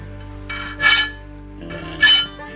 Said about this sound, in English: And just sharpening the blade up a little bit.